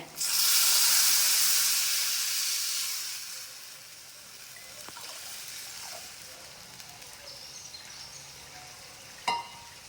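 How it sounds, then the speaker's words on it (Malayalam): Squeezed tamarind water poured into a hot pan for a chili-fried tamarind dish, bursting into a loud hiss and sizzle of steam that fades over a few seconds to gentle bubbling, with a small clatter near the end. "ഇതിലേക്ക് ഞാൻ പിഴിഞ്ഞു വെച്ച പുളിവെള്ളം ഒഴിച്ചു കൊടുക്കുന്നുണ്ട്"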